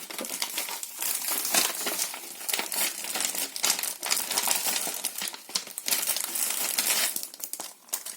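A stuck paper envelope is worked open by hand, giving dense, close crinkling and rustling with bursts of tearing paper that continue steadily throughout, with no voices.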